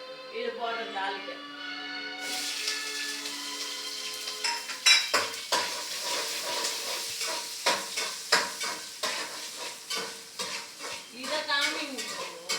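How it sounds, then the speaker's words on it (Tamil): Whole garlic, green chilies and onion sizzle and fry in hot oil for a South Indian tempering, with a steady hiss broken by repeated clinks and scrapes of a stirring utensil against the pan; a voice talks over it. "முழு பூண்டு, பச்சை மிளகாய், வெங்காயம் இது போடுற தாளிக்கு"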